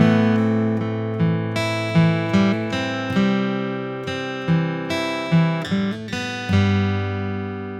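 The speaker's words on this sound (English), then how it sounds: "So we put our first 2 chords together, sounds like this." Guitar chords from the opening of a song, a series of picked and strummed chords with ringing sustain and steady rhythmic attacks, played alone up close with no talking.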